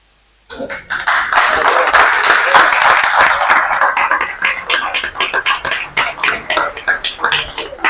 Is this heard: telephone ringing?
no